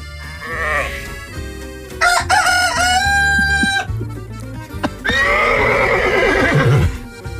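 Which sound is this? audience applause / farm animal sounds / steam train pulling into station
farm animal sounds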